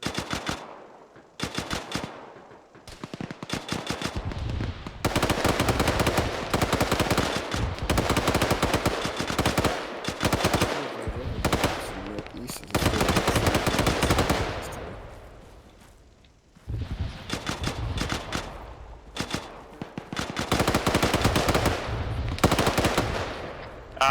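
Sustained automatic gunfire from the military game Arma 3, loud and dense bursts of machine-gun fire with brief lulls, heavy and continuous across the stretch, no voices over it.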